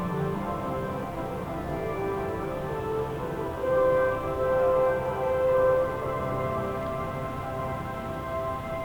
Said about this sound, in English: The noise you're hearing in the background is Disney's electrical water pageant.